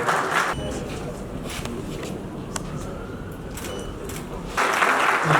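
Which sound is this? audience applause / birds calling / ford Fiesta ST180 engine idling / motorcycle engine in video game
audience applause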